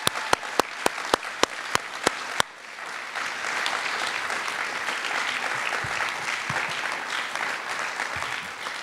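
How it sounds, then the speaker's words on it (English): An alumni weekend awards show audience claps for the award winners, a steady, full round of applause from a large crowd that carries on throughout, preceded by a few sharp clicks at the start. "please join me in a final round of applause for our winners"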